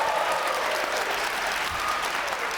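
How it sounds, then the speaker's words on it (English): Audience at a high school night show for the Can Am Sled Dog Races applauding, a steady wash of many hands clapping, moderately loud and continuous. "I think that deserves a round of applause"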